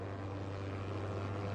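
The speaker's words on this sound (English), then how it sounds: "I'm getting buzzed by this plane." A plane in the Fortnite video game drones past with a steady, moderately loud propeller hum, alone and without any talk.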